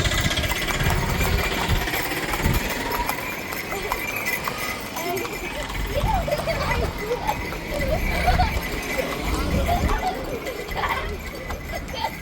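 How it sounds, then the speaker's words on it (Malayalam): Horse hooves clip-clop on a horse ride in Ooty: uneven, repeated thuds keep going under a steady background and voices. "ഗൈസ് ഇനി നമ്മള് കുതിര സവാരി ചെയ്യാൻ പോവാണ്"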